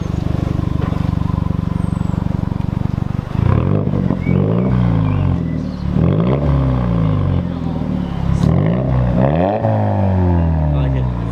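A loud car engine with a raspy, open exhaust from a mid-muffler delete idles, then revs repeatedly in rising and falling sweeps, close up.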